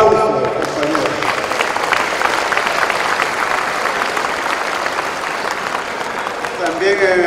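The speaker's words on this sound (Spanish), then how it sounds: "Así que yo creo que por el compañero Brito debemos un aplauso" Audience applause at a political party event fills the whole stretch, steady dense clapping from a crowd, loud and sustained, with a bit of voice and tonal sound near the start and end.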